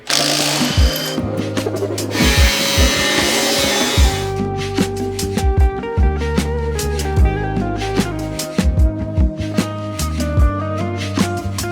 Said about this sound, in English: I need to cut and roll fenders before I do anything.